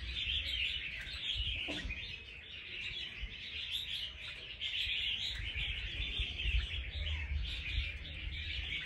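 Wild-caught red-whiskered bulbuls from Lang Son, kept as fighting songbirds, sing in a steady stream of bright chirps and trills that continues throughout at a moderate, fairly distant level, with no voices.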